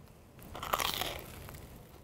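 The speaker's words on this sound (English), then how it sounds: "That's that nice crispiness we want. Bite time, starting from the corner here." A bite into a crispy, butter-fried grilled cheese sandwich gives one close, crackling crunch followed by a few softer crumbly chews, alone with no talking.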